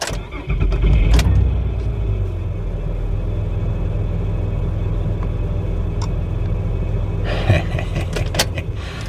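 The engine of a 2007 Honda Odyssey with a misfire rumbles close by, surging loudly in a sharp throttle snap near the start, then settling into a steady idle, with another rise and clatter near the end.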